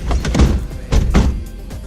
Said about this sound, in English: One of the doors.